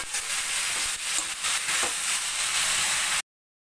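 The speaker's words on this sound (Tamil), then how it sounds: "ஆட் பண்ணிவிட்டு இதையும் அப்படியே இந்த காயும் இந்த எண்ணெயிலேயே அந்த 1 வதங்கட்டும்" Drumstick, brinjal, carrot and beans sauté in oil for sambar rice, giving a steady, close, bright sizzling hiss with a few soft stirring bumps, then cutting off abruptly.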